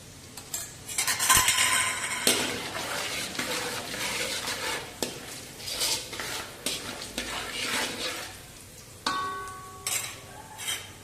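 Nylon poha stirred and roasted in a pan with turmeric and green chillies. A loud, busy rustle of spoon strokes and a light sizzle are punctuated by sharp metallic clinks against the pan, with no voices.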